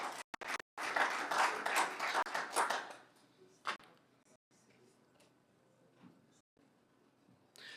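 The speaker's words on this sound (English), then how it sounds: "I think you deserve a round of applause" Council members applaud at a municipal council meeting: a burst of clapping lasts about three seconds, then fades to scattered faint claps and a few isolated taps in a quiet hall.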